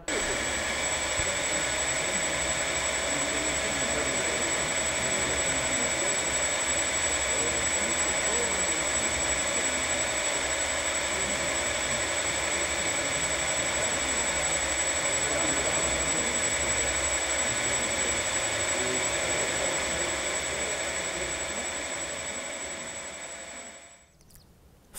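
A radio-controlled model helicopter flies aerobatic loops and rolls, giving a continuous high-pitched turbine-like whine with steady rotor drone that holds for the whole stretch before cutting off near the end.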